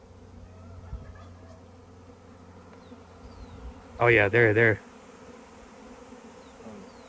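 Bees around a farm hive make a faint, continuous buzz in the background, with a brief burst of close, loud voice in the middle.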